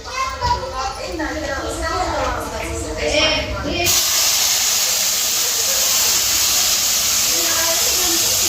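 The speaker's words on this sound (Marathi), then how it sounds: "आता मस्त उकळतं दूध टाकणार आहे त्याच्यात" Boiling milk hits roasted kheer ingredients and erupts into a loud, steady steaming hiss and sizzle, following a few seconds of people talking, a child among them.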